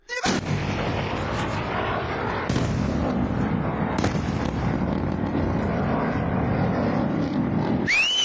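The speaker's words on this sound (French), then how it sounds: "Il y a déjà plusieurs vidéos similaires à celle-ci qui circulent, où l'on voit des échanges de coups de feu." Gunfire exchanged in a conflict zone in Iran: sustained loud, dense crackling and booming across the whole stretch, with sharp reports near 2.5 and 4 seconds and no voices.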